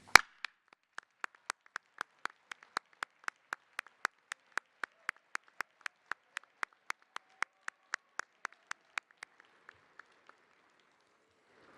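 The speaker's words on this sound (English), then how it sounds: "Would family members please stand for applause and congratulations?" Families at a college convocation ceremony get a sparse, sharp patter of hand claps, a few dozen distinct claps in a steady, thin rhythm that tapers off and fades out near the end.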